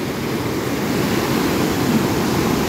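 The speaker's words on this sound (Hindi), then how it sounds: "पानी का शोर इतना ज्यादा है और पानी की स्पीड भी देखें कितनी ज्यादा है।" Loud, steady rushing water pours from the man-made Manthoka waterfall in a dense, continuous roar that holds evenly throughout, with no voices.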